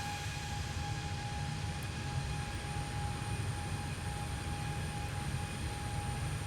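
An aircraft takes off in a flight simulator game, heard as a steady, unbroken engine drone with constant tonal whine, moderately loud and with no talking.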